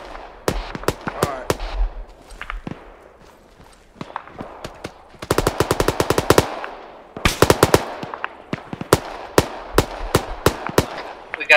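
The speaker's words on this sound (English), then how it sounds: "They're just shooting at us." Machine gun fire in the video game ArmA 3, likely a 240 machine gun: rapid bursts and sharp single shots, loud and close, with two dense sustained bursts in the middle and scattered cracks around them.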